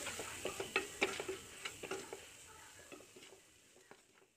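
Chilli powder, cumin powder and garam masala are stirred in a pan with soft tapping and scraping strokes in a quick, uneven rhythm, over a faint sizzle that fades toward the end.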